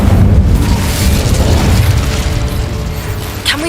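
An Incendio fire spell in Hogwarts Legacy erupts with a loud, roaring burst that rumbles and gradually fades, ending with a sharp bright crackle.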